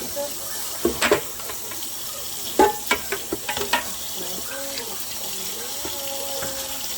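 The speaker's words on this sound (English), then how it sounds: "Not a lot of people wash it, but I choose to wash my ham with lime." A ham is rinsed with lime under running water, with a soft tap flow and several close splashing, rubbing bursts, and a voice briefly audible.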